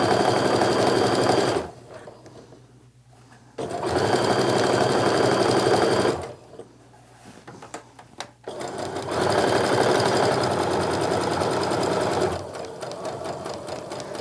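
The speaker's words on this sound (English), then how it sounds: "let's get this sewn together" A sewing machine stitching quilt block pieces together in repeated bursts of rapid, steady whirring, with short quiet gaps between runs as the fabric is fed through.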